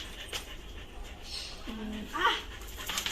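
A puppy in a home whimpers in a short, thin whine near the middle, with soft panting and breathy noise around it, fairly close and quiet.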